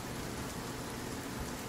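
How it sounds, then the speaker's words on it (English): Steady rain in the survival video game Sons of the Forest, an even, dense patter across the whole stretch with no talk over it. "I love the rain. The rain is so, so nice."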